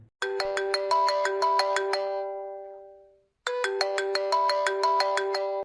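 A mobile phone rings with an incoming call, a bright repeating melodic ringtone pattern that plays, decays into silence, then starts again, clear and close with no voices over it.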